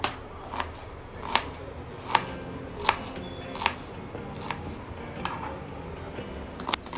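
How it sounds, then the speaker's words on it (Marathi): A knife finely chops onion on a board for misal, giving steady, evenly spaced thuds about once every second, up close over a quiet kitchen background, with no talking. "सगळ्यात आधी मी कांदा बारीक चिरून घेते"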